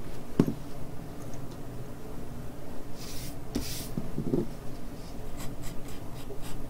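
A pencil draws a dog's nose on paper, a faint, soft scratching with a few light taps, close and quiet against a low background hiss.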